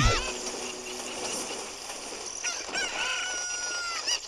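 A cucco chicken from The Legend of Zelda: Ocarina of Time on the 3DS gives a loud crow followed by a series of bright, close clucks, with game sounds underneath.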